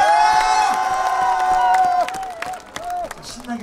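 Audience at the 2017 Ulsan Whale Festival concert clapping and cheering under a loud amplified voice holding a note, with the crowd noise thinning toward the end.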